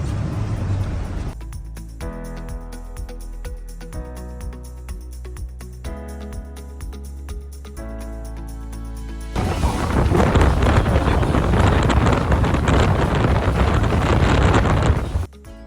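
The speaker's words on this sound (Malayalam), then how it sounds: "സ്പീഡ് ബോട്ടിൽ വന്ന് മുടിയൊക്കെ അലമ്പായി" A speed boat ride near Split, Croatia, starts with a rhythmic motor hum and thumping hull, then strong wind roar buffets the microphone for the last several seconds.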